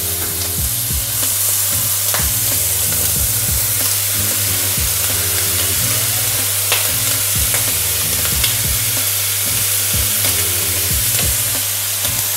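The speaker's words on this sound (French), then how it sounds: "Une fois que nos lardons ont commencé à fondre, on va pouvoir venir ajouter les oignons." Lardons and onions fry together in a pan for a quiche Lorraine. A loud, continuous sizzle carries sharp spatters and intermittent scraping stirs, with a low steady hum underneath and no talking.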